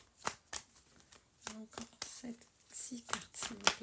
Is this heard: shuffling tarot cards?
yes